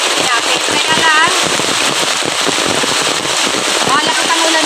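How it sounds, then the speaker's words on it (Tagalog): Heavy rain pours steadily on a seaside trip to Punta Maria, a dense continuous hiss and patter. It stays loud and unbroken throughout, with some voice-like sounds faintly woven through the noise. "malakas ang ulan ngayon"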